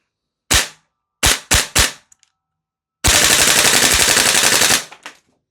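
An airsoft gun, a DE Ghetto Blaster or Salvo MCX, fires three sharp single shots in quick succession, then after a pause lets off a loud, sustained full-auto burst of nearly two seconds.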